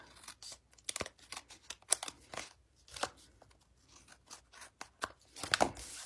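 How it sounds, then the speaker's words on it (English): Scissors trim paper for a Stampin' Up! Paper Pumpkin card kit: a quiet, close series of crisp snips and rustles in an irregular rhythm. "And then I'm going to trim that."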